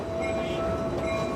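A train departing for Lahore, a steady rolling rumble of rail cars with a sustained tonal whine over broadband clatter, continuous and fairly close throughout.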